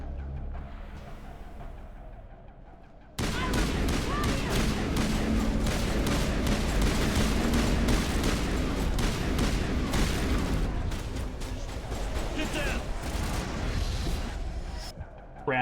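Grenade explosions and gunfire in the game Mass Effect: a loud blast kicks off a long stretch of dense booming and rapid shots, with one more burst near the end.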